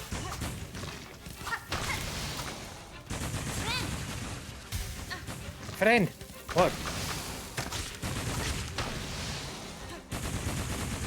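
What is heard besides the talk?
explosions and gunfire in a video game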